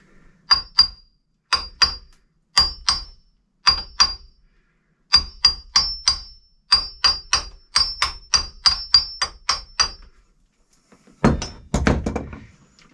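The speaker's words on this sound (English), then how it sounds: "I'm just going to give it a couple taps here." Sharp metallic taps with a ringing ding on the fresh water pump of a sailboat's Westerbeke engine, struck in quick pairs and short bursts, close and clear, ending with a louder clattering thump.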